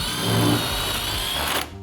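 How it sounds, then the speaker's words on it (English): A power drill bores a 3/8-inch hole into drywall, giving a short, close, steady whirring grind that cuts off abruptly near the end. "You're going to drill a hole,"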